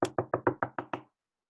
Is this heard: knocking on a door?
yes